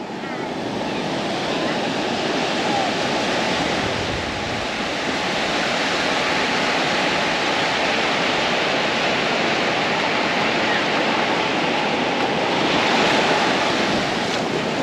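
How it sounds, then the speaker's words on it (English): Ocean surf at Cylinder Beach on North Stradbroke Island, a broad continuous roar of breaking waves with gentle swells in loudness and some wind buffeting the microphone, no voices. "here we are at Cylinder Beach on North Stradbroke"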